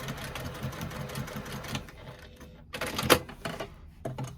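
A sewing machine stitching a lining zipper pocket for a bag, with a steady close mechanical whir and a short pause partway through before it runs again.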